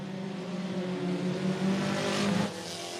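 Race cars in a heat race at Cottage Grove Speedway in Oregon roar steadily at moderate distance, engines droning and swelling as the pack runs laps, with a louder surge before easing off.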